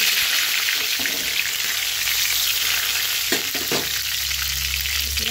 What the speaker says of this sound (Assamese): কেৰাহীত মিঠাতেল দিছোঁ। এতিয়া তেজপাত